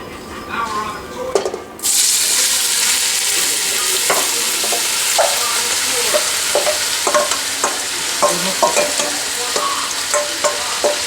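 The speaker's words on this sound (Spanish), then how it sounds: "En el aceite caliente echamos la cebolla." Onion hits hot oil in a pan for Peruvian tamales, setting off a sudden loud sizzle that continues steadily, punctuated by repeated sharp clicks and scrapes of a spoon stirring.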